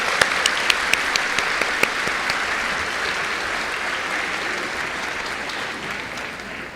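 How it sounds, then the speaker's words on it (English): An audience applauds a pre-K and kindergarten performance at a school Grandparents and Special Friends Day, steady dense clapping from a sizeable crowd across the whole stretch, a few sharper claps standing out at the start. "Can we give them a little bit more applause?"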